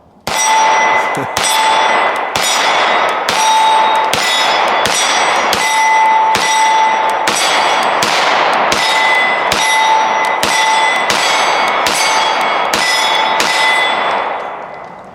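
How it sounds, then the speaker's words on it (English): A Taurus 917C pistol fires a rapid string of shots at steel targets on a range, each sharp crack followed by a ringing metallic clang, loud and evenly spaced over about fifteen seconds. "I'm gonna try for the steel because we haven't popped any steel yet."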